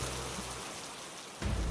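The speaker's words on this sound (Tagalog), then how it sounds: "Kahit malakas yung ulan" Heavy rain in a Filipino animated scene, a steady dense hiss of downpour that swells louder near the end, with no talking.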